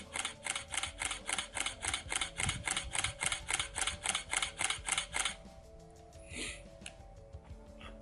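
A DSLR fitted with a zoom lens fires repeated shutter clicks while photographing the moon, a fast, even burst of sharp mechanical snaps for about five seconds, followed by quieter handling noise.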